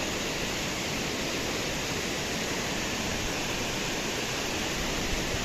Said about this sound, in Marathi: हा ओतूर गावातील दुर्नळी धबधबा